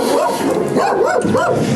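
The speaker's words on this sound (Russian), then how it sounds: "Не надо лаять." A dog yaps and whines loudly and close by, with rising and falling yelps that run without pause through the whole moment, outdoors on a spring day in Chisinau.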